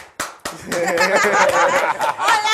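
Scattered hand claps and slaps mixed with chuckles and laughter from an audience, starting as a few sharp claps then swelling into a short burst of clapping.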